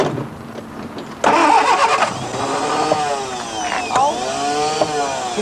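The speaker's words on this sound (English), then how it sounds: "Switch the engine on and rev it gently." A car engine cranks and catches, then idles and rises in a few gentle revs, steady and close with the pitch climbing and easing.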